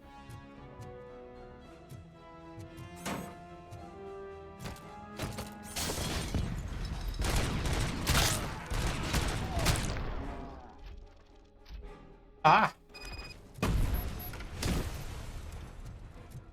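Gunfire and explosions from the video game RoboCop: Rogue City: bursts of shots and heavy crashing blasts that build to a dense, loud barrage mid-clip, then sharper isolated hits near the end, with a brief shout from a voice.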